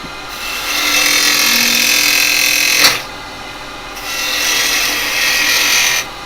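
A carbide tool cuts a wood vase on a woodturning lathe in loud, sustained scraping bursts, stopping briefly near the middle and then resuming close up, with no talk.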